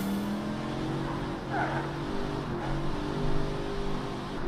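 A race car being thrashed around a track in Project Cars 3 hums with a steady engine drone that rises slightly, heard at moderate volume with no talking.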